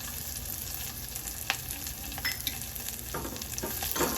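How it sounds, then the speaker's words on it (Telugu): Whole spices for jeera rice fry in a hot pan, filling the moment with a dense, constant sizzle and the occasional scrape of a spoon, close and fairly loud. "ఇవన్నీ దోరగా ఫ్రై చేసుకోవాలండి. దోరగా వేగినాయండి."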